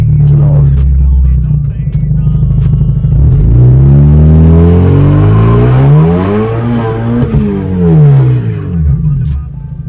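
Turbocharged car engine revving hard, a loud sustained roar with rising and falling tones as it climbs through gears, continuous throughout with voices faintly underneath.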